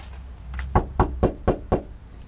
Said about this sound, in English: Five knocks seems okay.